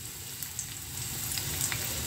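Onion fries in cooking oil for a small fish and tofu dish, producing a soft, low, steady sizzle with a few faint crackles and ticks.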